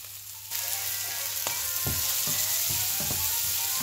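Chana dal fries in a pan and gets stirred, a loud steady sizzle kicking in suddenly and running throughout, broken by several sharp scraping strokes of the spoon.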